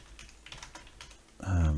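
Light clicks of fingers typing a Linux command on a computer keyboard in an Ubuntu terminal, faint and quick for over a second before a loud voice cuts in.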